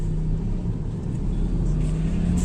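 Car engine rumbling steadily under load during a driving lesson, a low continuous drone with mild swells as it gathers speed, close and fairly loud with no talk.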